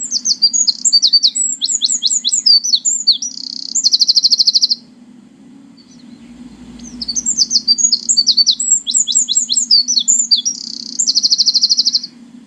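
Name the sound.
wren song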